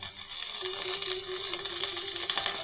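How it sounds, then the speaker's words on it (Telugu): Shredded cabbage fries in a pan for a baby corn and lemongrass vegetable soup, a close, steady hiss and crackle with a faint metallic ringing tone running through it. "దీన్ని చక్కగా వేయించుకోండి కచ్చపచ్చగా"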